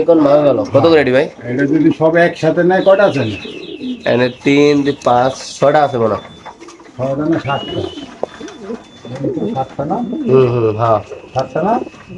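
Pigeons coo steadily from cages at a pigeon sale, their throaty calls close and overlapping beneath someone talking loudly throughout.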